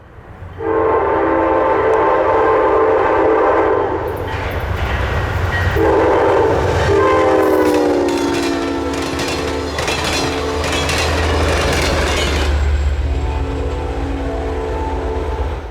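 An Amtrak P-42 locomotive pulls the Piedmont passenger train through light snow in Raleigh, its horn blaring in long loud blasts over the steady rumble and clatter of the passing cars.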